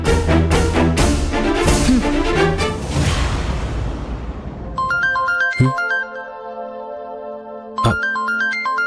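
A phone ringtone sounds for an incoming call in a Telugu TV serial scene, a loud electronic melody repeating in a steady pattern after a fading musical passage.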